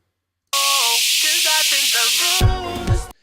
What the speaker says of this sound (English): it's just giving me the very high frequencies of this track